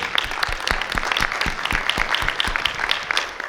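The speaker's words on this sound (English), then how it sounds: "A round of applause for Jackie Nava." An audience at a women's boxing summit in Las Vegas claps, scattered individual hand claps standing out over a moderate, steady patter of applause that fills the whole stretch.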